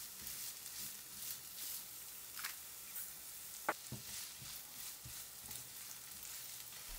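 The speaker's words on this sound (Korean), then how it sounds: "그리고 양파를 볶아줄 겁니다" Onions and carrots stir-frying in a pan, a steady quiet sizzle with occasional faint scrapes and clicks as they are stirred.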